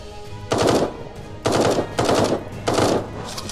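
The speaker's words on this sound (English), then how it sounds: "No, now they're shooting at us again." Automated turrets firing rapid bursts in the Eden Star video game, three loud rattling volleys of roughly half a second to a second each, separated by brief lulls.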